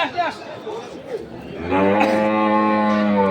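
A dairy cow at the Kaharol cattle market in Dinajpur gives one long, deep, close moo that fills the second half, after a stretch of faint background chatter.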